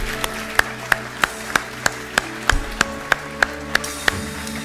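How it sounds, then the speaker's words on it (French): A church congregation claps in steady unison, sharp even beats roughly three per second, over sustained musical tones, with no talking. "Est-ce qu'on pourrait les applaudir également?"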